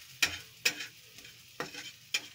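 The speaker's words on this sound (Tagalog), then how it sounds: "Magtotorta po tayong itlog. With kamatis po siya, may sibuyas." An egg omelette with garlic, onion and tomato frying in a home kitchen pan, with four sharp stirring scrapes over a soft sizzle, near and without talk.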